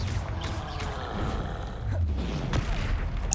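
A Confringo blasting spell from Hogwarts Legacy erupts amid a dense, continuous clatter of game combat, with a few sharper booming hits rising out of the steady background noise.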